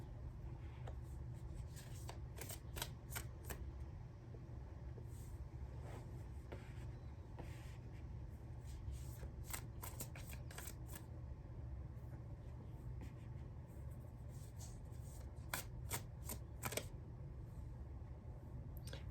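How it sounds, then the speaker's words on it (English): Tarot cards shuffled by hand in a quiet indoor space, a run of soft, irregular riffling taps and flicks that come in clusters over a steady low hum, close and faint with no talking. "so I'm just gonna keep shuffling"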